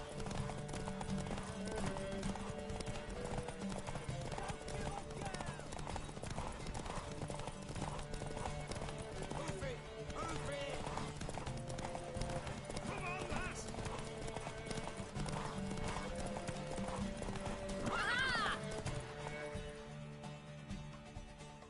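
Horse hooves clip-clop in a steady galloping rhythm through a Witcher 3 race, with a horse neighing near the end and voices talking over the running hooves.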